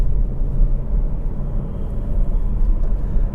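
A Kia XCEED with a 1.5 T-GDI 160 hp engine and seven-speed dual-clutch gearbox pulls away, a loud, steady low engine drone and road rumble heard from inside the car.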